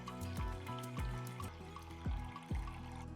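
Water pours into a pot of mutton biryani in a steady gurgling stream, with a few splashy surges rising over the continuous liquid rush.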